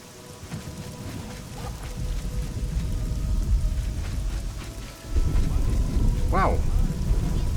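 Steady rain pours in a video game, a dense hiss with a low thunder rumble building beneath it. The downpour grows heavier partway through and stays loud, with no one speaking.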